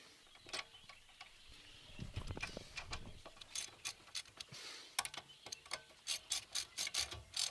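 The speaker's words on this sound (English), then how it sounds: "as we tighten them, alternate diagonally" A ratchet clicks in quick runs while bolts are tightened diagonally on the rear axle of a Land Rover Discovery 2. Sharp rhythmic ticking speeds up toward the end, with clanks and handling noise between runs.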